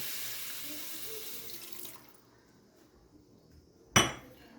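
Water poured from a tap or pitcher into a wok holding pork belly, a steady broadband splashing rush for about two seconds that fades out, followed near the end by a single sharp clank of the pan.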